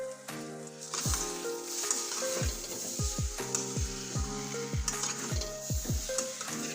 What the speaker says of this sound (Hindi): इस तरह से चलाते हुए मैं 2 मिनट ही इसे फ्राई करूंगी